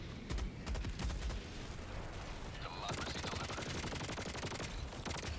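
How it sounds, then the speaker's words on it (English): A strafing run air strike in Helldivers 2 tears down from the sky as rapid, loud automatic gunfire, a continuous fusillade of booming cracks over rumbling game noise and a mid-clip whoosh. "a single strafing run should do the work"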